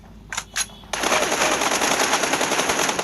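Two quick shots in a PUBG Mobile arena deathmatch are followed by a loud, sustained burst of automatic gunfire, close and dense.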